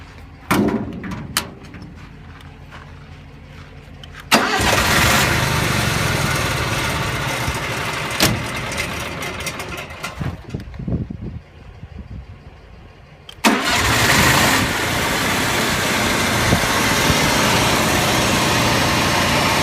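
A 1999 Chevy truck engine cranks and catches, then idles with a rough, steady rumble. After a short lull another machine kicks on with a sudden loud onset and runs continuously nearby.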